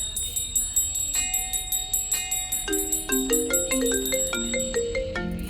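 A mobile phone rings inside a temple, a bright electronic melody of quick ascending tones over a steady ticking beat, clear and close.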